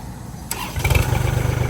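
A used Kubota three-cylinder diesel tractor engine with its original engine cranks and catches, settling into a low, rhythmic chugging idle close by.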